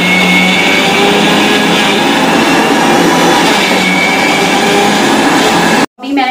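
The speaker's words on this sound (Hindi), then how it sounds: "और अब हम इसे घुमा देंगे मिक्सी में," A mixer grinder grinding salt whirs loudly and continuously with a harsh rattling hum, then cuts off abruptly near the end.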